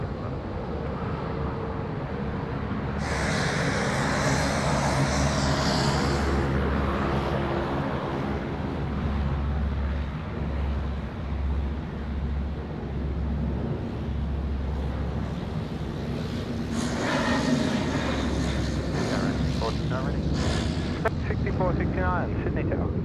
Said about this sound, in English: we're going to have a Saab 340 coming down past us shortly